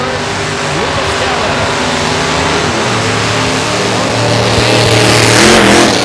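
A drag racing car at Lonestar Motorsports Park revs hard through a burnout, a loud sustained engine roar that swells toward the end, with faint talk underneath.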